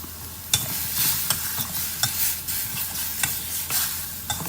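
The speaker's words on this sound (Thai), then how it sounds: "แล้วก็ผัดต่อจนสุกนะฮะ" Pork leg being stir-fried with bitter melon and southern Thai curry paste in a pan, with steady close sizzling and a series of sharp spatula scrapes and clanks at irregular intervals, no talking.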